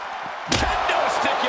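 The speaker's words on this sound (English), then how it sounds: "Kendo stick impact." A kendo stick strikes a wrestler during a video-game wrestling match, landing as one heavy slam followed by a lingering crowd-like roar.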